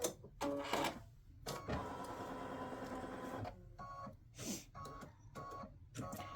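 Embroidery machine stitching a turkey applique block, whirring in rapid mechanical bursts separated by short pauses, with one longer steady run near the start, close and loud.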